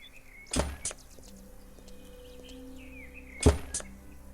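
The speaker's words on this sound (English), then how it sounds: "I'm hearing a nail gun" Two sharp, punchy bursts from a nail gun fixing ceramic roofing tiles in the video game Lumberjack's Dynasty, about three seconds apart, each a quick double thunk standing out against a quiet background.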